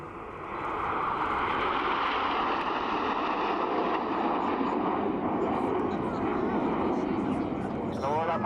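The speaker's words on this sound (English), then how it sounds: "as the jets come down the hill here, the speed builds up to 400 miles an hour" Red Arrows BAE Hawk jets at the RAF Leuchars airshow, a loud sustained jet roar building as the formation passes, with a voice commentating over it.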